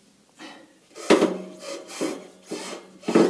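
A worn bearing rubbing in a Giemme EF 115 flail mower gives four or five rhythmic scraping, rasping strokes, moderately loud and close, with brief gaps between them.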